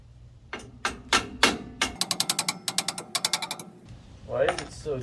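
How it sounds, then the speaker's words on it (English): A little hammer strikes a stuck part on an old farm truck in quick metallic taps, close and sharp. Single blows come first, then rapid bursts of a few hits each. A short burst of muffled voice closes the sequence. "Let me give it a little tap."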